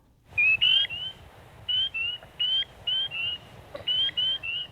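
Spring peeper frogs give shrill, high-pitched peeps in short bursts of two or three, overlapping into a small chorus in a Missouri wetland against a quiet background with a low rumble.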